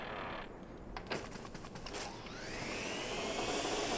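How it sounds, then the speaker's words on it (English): Luigi's Poltergust vacuum in Luigi's Mansion 3DS sucks at candles, a steady whooshing suction that swells and rises in pitch, with brief rattling clicks partway through. "Sometimes when you vacuum those, they give you hearts"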